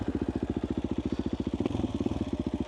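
A dirt bike engine, likely a 300, putters nearby at a steady rapid rhythm of low thumping pulses as the rider moves off in sand, the beat slightly roughening toward the end.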